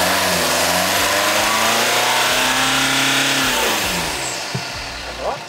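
A later BMW M47 diesel engine with a new crank pulley and new EGR valve revs up loudly and holds high revs, then drops back toward idle, heard close by.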